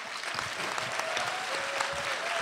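An audience applauds the arrival of sailor Samantha Davies at the finish of the Vendée Globe race, with steady, dense clapping throughout at moderate distance and no talk.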